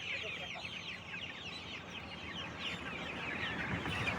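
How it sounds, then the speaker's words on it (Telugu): Hens of several different coloured varieties cluck steadily and close by, a dense chatter of overlapping calls that runs the whole time without pause. "మా దగ్గర వెరైటీగా ఉన్నాయి కోళ్ళు"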